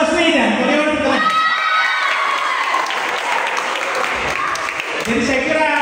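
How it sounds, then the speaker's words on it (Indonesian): A crowd at a video journalism training session in Indonesia breaks into loud applause mixed with cheering and shouting voices, sustained throughout. "Kalau tepuk tangannya misalnya kita anggap beliau ini Anies Baswedan, bagaimana tepuk tangan?"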